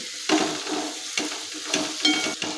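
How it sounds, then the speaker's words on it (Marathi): Bottle gourd pieces tossed with spices in a pan, a few soft scraping stirs with faint sizzling beneath, each stroke brief and close, no talk. "सर्व साहित्य व्यवस्थित मिक्स करून घ्यायचं आहे दुधीला सर्व मसाले चांगले व्यवस्थित लावून घ्यायचे"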